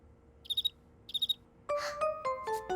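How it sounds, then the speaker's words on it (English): A cartoon cricket chirps in two short, bright trill bursts, close and clear, followed by a run of plucked melodic notes from the cartoon's score. "Cricket!"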